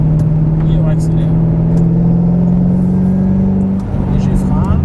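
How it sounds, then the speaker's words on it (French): A Ford Mustang GT500 on a race circuit accelerating hard, a loud steady engine drone heard from inside the car with a brief dip near the end, and voices speaking over it. "Et on accélère."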